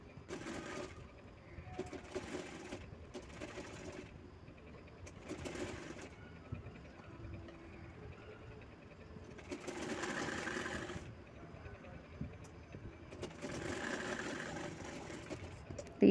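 A sewing machine stitching a sound box cover, running in several separate bursts of rapid mechanical whirring with short pauses between them, fairly close and moderately quiet.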